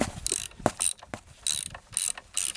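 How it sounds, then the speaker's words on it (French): Ratchet wrench cranking a pair of spring compressors one after the other on a car's shock absorber coil spring, a run of sharp clicking strokes in bursts, close and fairly loud with short pauses between. "on peut commencer à venir visser avec la clé à cliquet les compresseurs l'un après l'autre"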